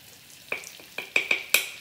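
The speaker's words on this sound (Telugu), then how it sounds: "ఇది మంచిగా ఫ్రై చేసుకోవాలి రాస్ వెళ్ళిపోయిన దాకా" All-purpose flour cooks in a pan for a creamy veg pasta, heard as a soft sizzle beneath a handful of sharp utensil scrapes and taps against the pan, close and irregular.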